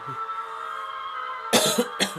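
A person coughs in a couple of short, sharp bursts near the end, close and fairly loud over a quiet, steady background tone.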